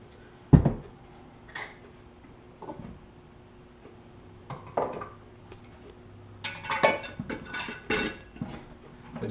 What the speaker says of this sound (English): I just stick the lid right on it.